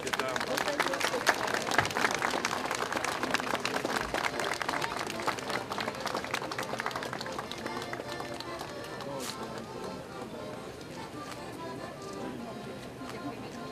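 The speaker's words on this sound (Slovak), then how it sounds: "Jej príchod si nenechali ujsť desiatky Martinčanov, ktorí ju privítali srdečným potleskom" Dozens of townspeople in Martin applaud to welcome the Slovak president on her arrival, a dense crowd clapping that is busiest at the start and eases off, with voices mixed in.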